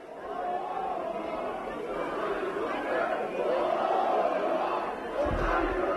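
Fenerbahçe supporters chant for Osayi Samuel as the team arrives, a big crowd roaring in rhythm. The chanting holds steady and fills the whole stretch, and a low thump comes near the end.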